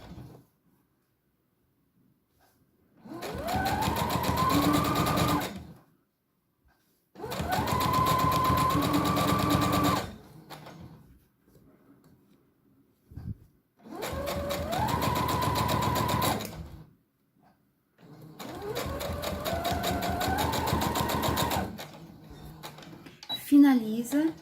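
A home sewing machine stitches a fabric brush roll holder in four separate runs of steady motor whir. Each run speeds up at its start, and short quiet pauses separate the runs.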